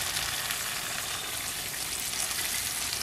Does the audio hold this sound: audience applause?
no